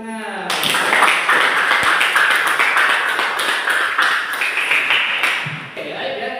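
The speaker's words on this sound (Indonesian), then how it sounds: "Tepuk tangan." Students applauding in a classroom during a Pancasila education lesson, a dense burst of many hands clapping for several seconds, close and lively, before it tapers off.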